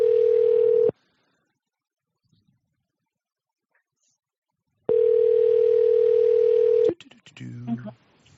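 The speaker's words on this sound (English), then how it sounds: "It's ringing." Telephone ringing heard down the line: two long electronic ring tones separated by silence, then a click as the call connects and a voice answers.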